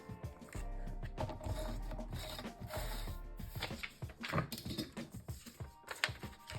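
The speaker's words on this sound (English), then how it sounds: "I'm going to tear off that excess strip and save it for other projects" A strip of book-page paper is torn off a square during papercraft for a junk journal, heard as close, scratchy rustling and ripping in uneven bursts.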